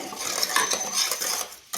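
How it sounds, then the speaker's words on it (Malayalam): A spoon scrapes and clinks steadily against a metal pot while a papaya dish is stirred, close and fairly loud, with a brief pause near the end and no talk. "നന്നായി ഒന്ന് മിക്സ് ചെയ്ത് കൊടുക്കാം"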